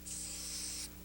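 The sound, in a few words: hairspray being sprayed onto hair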